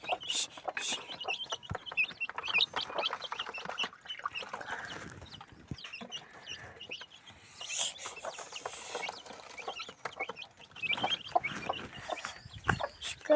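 Chickens and ducks on a farm give off a busy run of clucks and squawks near at hand, with scattered calls overlapping through the whole stretch and a few brief voices among them.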